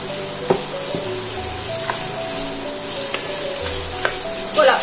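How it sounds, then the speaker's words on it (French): Onions sizzle in sunflower oil in a pot, a steady close frying hiss broken by a few soft clicks and a brief stirring rustle near the end. "on va tout de suite faire revenir nos oignons"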